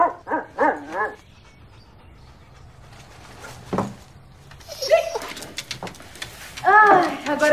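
A dog barks in a short burst of yelps, then later whimpers and whines in high-pitched cries, with background sounds and movement between them.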